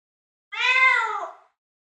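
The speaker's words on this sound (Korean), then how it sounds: "빗자루를 휘둘러 고양이를 쫓아냈다" A single drawn-out cat meow, clear and fairly close, rising then sliding down over about a second in otherwise quiet surroundings.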